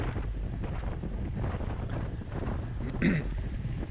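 Headwind buffets a cyclist's microphone during a Category 4/5 road bike race, a steady low roaring rumble with gusty fluctuations throughout and a brief brighter burst near the end.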